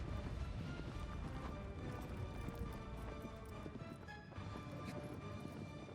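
Horse hooves galloping in Shadow of the Colossus on PS4, a rapid steady clip-clop running continuously at moderate volume with some background game noise.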